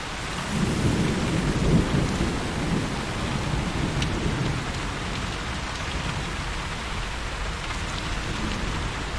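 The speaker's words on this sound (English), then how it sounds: "The only lightning in the entire world." Steady rain hisses throughout a thunderstorm in a VRChat world, with low rolling thunder rumbling loudly in the first few seconds before settling into a continuous downpour.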